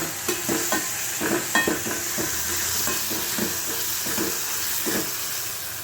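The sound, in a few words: onions and tomatoes sautéing in oil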